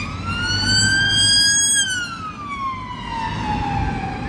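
A police car siren wails loud and close on a city bus street in Newcastle, its rising and falling tone sweeping steadily over low traffic rumble, with no talk.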